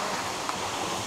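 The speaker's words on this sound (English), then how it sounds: "Now we're at another waterfall." A waterfall in a Puerto Rico rainforest gives a steady broadband rushing roar, even and continuous with no breaks or voices over the brief moment.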